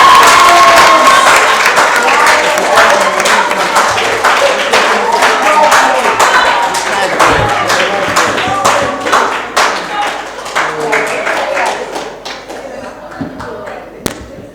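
An audience applauds the two teams at the end of a school quiz match, with loud, dense clapping that slowly thins and fades and a few scattered claps and thumps near the close.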